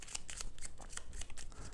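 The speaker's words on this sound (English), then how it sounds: "give them a shuffle" A deck of reward cards for the board game Architects of the West Kingdom gets shuffled by hand: quick, crisp riffling flutters in a rapid series of bursts, close and fairly quiet, with no talking.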